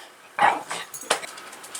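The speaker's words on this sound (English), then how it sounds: "These dogs." Dogs bark in a few sharp, close yips and barks with short gaps between them, fairly loud against a quiet background.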